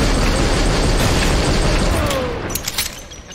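Loud, sustained blasts of shotgun fire from the Maximum Action video game, a dense booming burst that fills the first two seconds before tailing off into scattered sharper pops.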